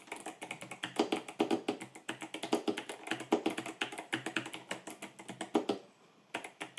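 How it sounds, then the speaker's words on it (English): Typing on an 8Bitdo mechanical keyboard with clicky switches: rapid, irregular bursts of loud, crisp key clicks close by, continuing steadily with a short pause near the end. "I must say, when typing, it's quite loud. The keyboard is quite loud,"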